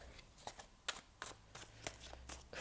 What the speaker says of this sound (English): Love shuffling this deck.